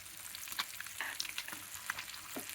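Marinated fish fries in a pan over a medium-low flame, giving a quiet, steady crackle with scattered small pops close by and no voices.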